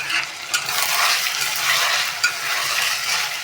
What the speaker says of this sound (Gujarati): ટામેટા એડ થઈ ગયા પછી એને થોડું હલાવીશું।